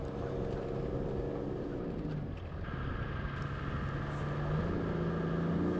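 A 4WD vehicle engine drones loudly and steadily, its pitch climbing and straining as it labours up a steep forest track on the Black Range Track, with no voices.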